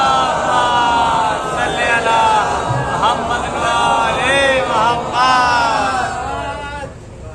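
A crowd at an Azadari religious gathering in Ludhiana shouts slogans together: loud, sustained massed voices rising and falling in chanted calls for about seven seconds, then tapering off near the end.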